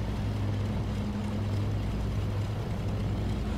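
Twin radial engines of a Douglas C-47 Dakota in X-Plane 11, throttle pulled back, give a steady, close, loud low drone with a rumbling hum that holds evenly throughout.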